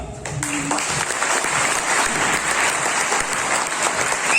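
Steady, dense audience applause at a public celebration in Jammu and Kashmir, loud and continuous throughout with no pauses.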